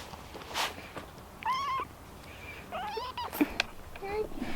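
A kitten gives three short, soft meows spaced a second or so apart, faint and close, against a quiet room background.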